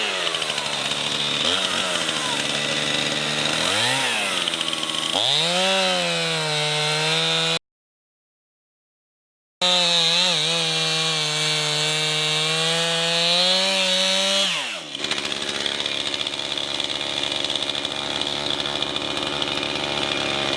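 A Stihl chainsaw cuts wood down at ground level, its loud engine revving up and bogging into the cut with rising and falling pitch, a brief dropout midway, then running on steadily.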